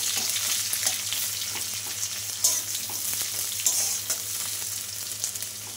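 Onion goes into a pan of chopped garlic frying in oil while cooking elephant foot yam stalks. A dense, continuous sizzle with crackling pops runs throughout over a faint low hum, and no one talks.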